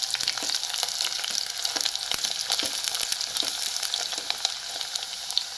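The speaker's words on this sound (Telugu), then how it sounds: "ఫ్రై చేస్తున్నాను ఆయిల్లో వేసుకొని ఇలా ఫ్రై చేసుకోవాలి అల్లం బాగా చక్కగా ఫ్రై అవ్వాలన్నమాట" Ginger pieces frying in hot oil for a preserved ginger chutney, giving a steady, dense sizzle with crackling pops throughout, close and alone without talk.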